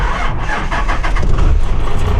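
Ford F350 with a swapped Cummins diesel engine, jump-started from a booster, cranking and catching into a loud, steady rumbling run, close by and without speech.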